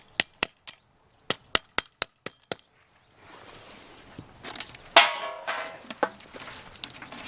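A hammer taps a spout into a freshly drilled maple tree with about nine sharp, evenly spaced strikes, followed by rustling, handling noise and a few lighter knocks nearby.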